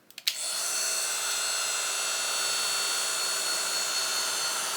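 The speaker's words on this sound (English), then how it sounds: "hope my embossing tool is not too loud" Hot air from an embossing heat tool blows in a steady, loud, even whoosh that starts after a few soft clicks and then holds unbroken throughout.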